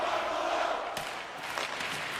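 A hockey arena crowd in a video game roars with steady, loud cheering, a continuous wash of voices with a few sharp bursts of noise rising out of it.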